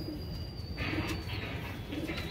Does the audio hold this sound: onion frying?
no